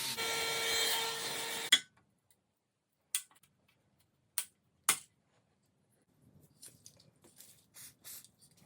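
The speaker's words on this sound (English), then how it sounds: "needed the angle grinder to persuade it" An angle grinder cuts at a stuck screw on an original VW T6 bike rack in one loud, harsh burst of under two seconds. A few sharp knocks and faint handling noises follow, with no talking.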